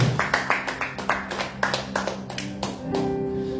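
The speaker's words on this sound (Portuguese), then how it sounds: "Pode aplaudir a Jesus, aleluia" Church congregation clapping in praise during a sermon, a series of sharp, fairly regular claps that thins toward the end as a sustained tone and a voice come in underneath.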